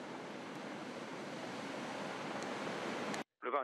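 Strong gusting wind and rough sea during a storm rescue at a harbour wall, with 110 km/h gusts. The noise forms a steady, dense roar that cuts off abruptly near the end, followed by a brief burst of sound.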